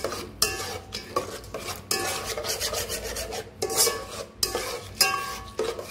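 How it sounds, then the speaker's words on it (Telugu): A spoon stirs yogurt into rice for a South Indian kushka, close rhythmic scraping and rubbing strokes against a metal pot in bursts, with occasional clinks and no talking. "మళ్ళీ ఒకసారి బాగా మొత్తం మిక్స్ చేసుకోవాలి."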